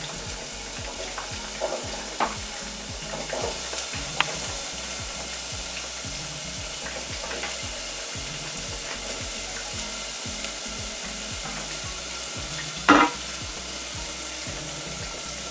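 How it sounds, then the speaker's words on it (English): Onions and garlic sizzle in melted butter in a pot, a steady close frying hiss with rhythmic stirring scrapes throughout and one sharper clink near the end, with no talking. "we're going to take our onions and garlic."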